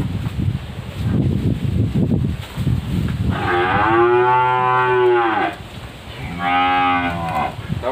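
Breeding cattle at a cattle farm in La Hai, Đồng Xuân district, Phú Yên: two long, loud, close moos separated by a brief pause, over rustling background noise.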